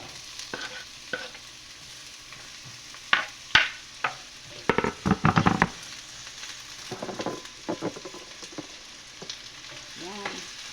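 Garlic and onion frying in a pan, a constant sizzle broken by loud clanks and scrapes of a utensil stirring, bunched in quick bursts in the middle, with faint bits of a voice in the background.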